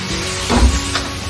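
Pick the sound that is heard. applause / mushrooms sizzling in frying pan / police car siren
mushrooms sizzling in frying pan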